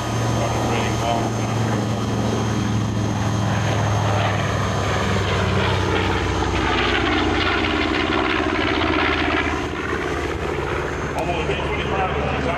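A B-25 bomber flies past at an airshow at Eglin, Florida, with a continuous loud propeller engine drone that rises and shifts as it passes. A voice speaks over the engine noise.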